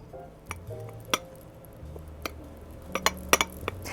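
Herb, lemon and garlic butter gets mixed in a bowl with a utensil, giving soft scraping and stirring under sharp clinks and taps of metal against the bowl, faint and close.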